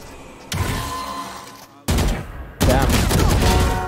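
Rapid bursts of video game gunfire erupt in separate volleys, loud and close, with a player's voice briefly heard.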